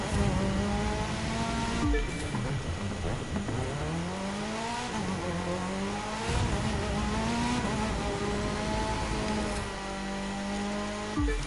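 An Audi races through consecutive turns in The Crew 2, its engine loud and close with rising and falling rev sweeps as it shifts through gears, steady and continuous with no talk.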